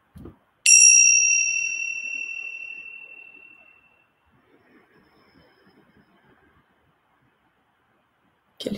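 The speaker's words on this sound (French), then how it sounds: "Petit gong de départ." A small meditation gong is struck once to open a session, ringing clear and bright with a long sustained tone that slowly decays over several seconds in a quiet room; faint soft noises follow after it fades.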